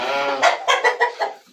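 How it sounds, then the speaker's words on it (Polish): A chicken on a farm field makes a drawn-out squawk followed by a quick series of loud, close clucks that taper off into quiet. "Kury na razie ganiają po polu."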